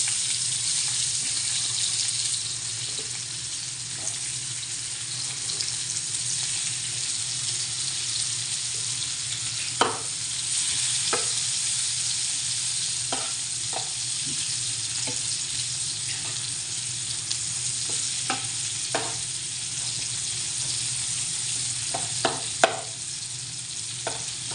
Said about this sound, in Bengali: এখন আমি পেঁয়াজ কুচিগুলা দিয়ে দেব।